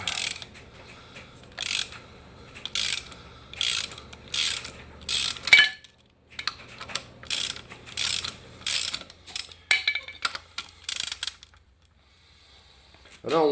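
A hand wrench works tight bolts loose on a 2013-2016 Dodge Dart during engine and transmission replacement, with repeated quick ratcheting clicks in bursts, a pause, then more ratcheting runs close up.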